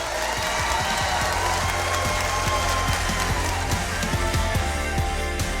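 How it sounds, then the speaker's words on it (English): Steady applause from a large audience at a speaking event, dense and continuous throughout, with a few faint voices mixed into the clapping. "deserves an extraordinary round of applause"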